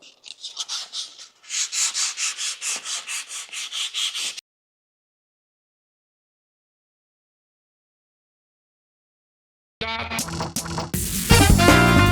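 An intake manifold port is buffed by hand, a close, rhythmic rubbing and scrubbing in quick repeated strokes for several seconds, then silence, then a sudden burst of loud unrelated sound near the end.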